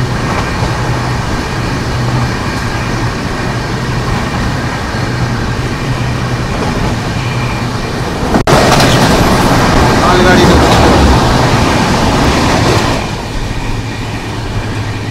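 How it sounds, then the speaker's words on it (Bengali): Another train is heard approaching Gaya Junction: a continuous rail rumble swells abruptly about halfway through and stays loud, with a faint steady hum underneath and background voices mixed in. "একটা ট্রেন আসছে,"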